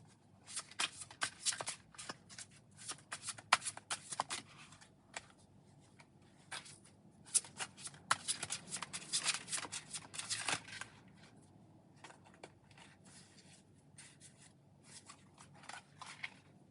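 Oracle cards shuffled by hand during a tarot-style card reading, giving repeated crisp riffling bursts and soft slides in uneven clusters, close and fairly quiet with short pauses, no talking.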